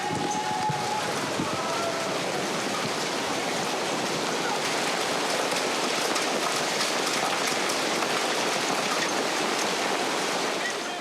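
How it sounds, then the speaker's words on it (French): A heavy hailstorm with pouring rain lashing the city of Siena, Italy, a dense, loud, unbroken hiss and roar of falling water that holds steady throughout. "Pire que ça, c'est un énorme orage de grêle qui s'abat sur la ville."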